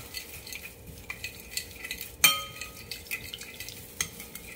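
A utensil stirs and mixes a dried seaweed salad in a bowl, giving soft, irregular scraping and tapping with one sharp clink partway through, close by and fairly quiet.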